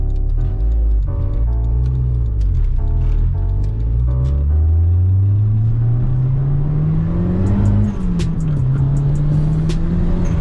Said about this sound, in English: Oh, I love turbo noises.